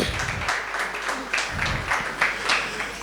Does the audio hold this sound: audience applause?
yes